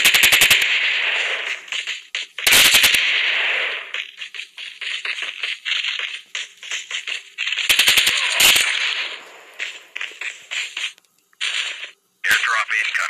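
Automatic weapons fire in the video game Call of Duty comes in loud, repeated bursts between quieter stretches, with a person talking over the gameplay.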